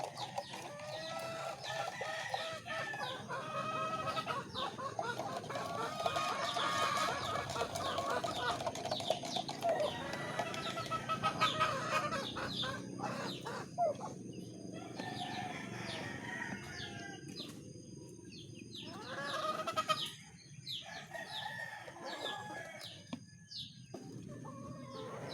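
Chickens and chicks, the chicks sick with fowl pox, cluck and peep close by, with occasional crowing and brief voices mixed in.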